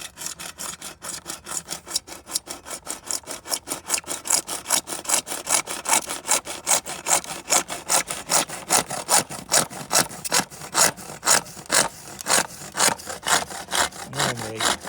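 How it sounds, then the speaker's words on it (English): A hacksaw cuts through plastic guttering in fast, steady back-and-forth strokes, each stroke a bright rasping burst, close and loud throughout with no talking. "We're going to use a hacksaw for this."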